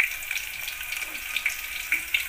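Onion and chopped vegetables sizzle in a pan for khichdi, a steady bright hiss with small crackling pops over a couple of seconds.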